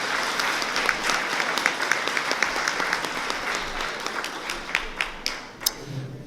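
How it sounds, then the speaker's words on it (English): Ceremony audience at a National Bar Association event applauding, a steady roomful of clapping with sharper individual claps standing out and thinning toward the end. "give our guests and our host a round of applause for the excellent job"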